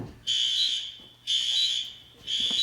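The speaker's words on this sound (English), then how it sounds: "Now the alarm is sounding." A home alarm system blares in three long, loud, high-pitched electronic bursts separated by short gaps, sounding alone in a room.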